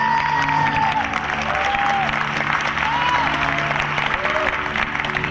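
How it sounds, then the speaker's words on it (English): A crowd applauds costumed fans at a Star Trek gathering, sustained clapping and some cheering from a large audience, with a few tonal whistle-like sweeps riding over the steady roar. "Let's give them all a big round of applause"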